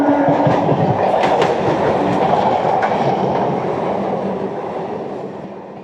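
The 12896 Puri–Shalimar Express in motion, with a loud, continuous close rumble and rail clatter from inside the train that eases slightly toward the end.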